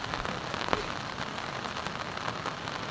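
Heavy rain from Typhoon Aghon falls in a dense, unbroken hiss with scattered drops striking nearby surfaces, no voices.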